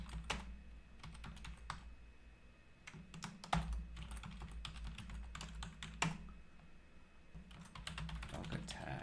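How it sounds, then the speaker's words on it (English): Typing on a computer keyboard at a desk, with a steady stream of quiet, close key clicks and a few heavier keystrokes, fairly soft overall. "Helps if I can type."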